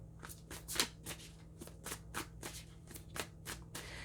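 A deck of oracle cards being shuffled, with quick papery riffles and soft slaps repeating in a steady rhythm, close up and quiet, over a low steady hum.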